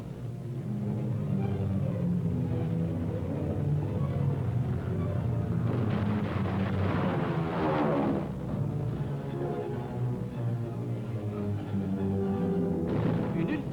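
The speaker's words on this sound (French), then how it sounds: "Rafale à 25 mètres de l'appareil en flammes." Machine-gun burst fired about 25 metres from a burning bomber aircraft in aerial combat. It comes as loud, rough, rapid broadband bursts over a constant rumbling drone, with a dense stretch in the middle of the clip.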